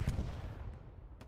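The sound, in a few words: explosions and artillery fire in the video game Hell Let Loose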